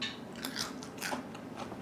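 Crunchy fried snack, freshly salted, bitten and chewed close up, with a quick series of crisp crackling bites and no talking.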